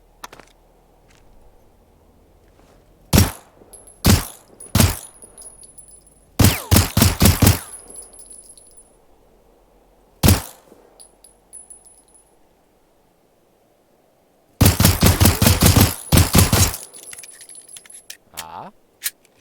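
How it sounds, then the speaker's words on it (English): Bursts of video game gunfire from Generation Zero, loud sharp volleys in several clusters with quiet gaps between, the longest rapid burst near the end. "Try crouch and shoot."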